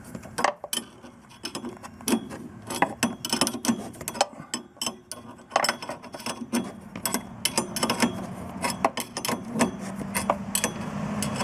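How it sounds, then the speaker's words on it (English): Nuts being tightened on a Lotus Excel rear hub assembly, with irregular close metallic clicks, ratcheting and clinks of tools and parts in quick uneven bursts. "Then I'm just tightening the top nuts here."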